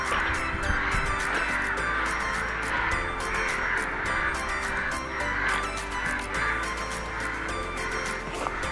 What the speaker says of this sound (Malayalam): ഏറ്റവും വലിയ പ്രശ്നം നിറച്ച് കാക്കകളാണ്